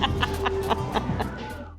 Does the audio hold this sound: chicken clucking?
yes